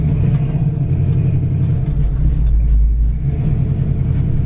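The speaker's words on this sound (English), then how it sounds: "this motor and exhaust sounds great" A 1971 Chevrolet Chevelle engine idles loud and close with a deep, throbbing exhaust rumble, steady throughout with slight swells in the low end.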